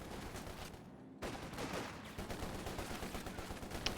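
Machine gun fire from a Vickers or MG34 in a trench in a strategy game, heard as continuous distant rattling amid battle noise, quiet and steady with a brief dip in the middle.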